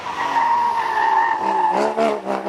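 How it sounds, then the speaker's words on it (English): Porsche Cayman GT4 race car, number 40, with a mid-mounted 3.8 litre flat six, climbing a hill at a speed event: a sustained loud engine note at high revs, then changing pitch and pulsing as it pulls away. "on its way, the Cayman GT4 with masses of power"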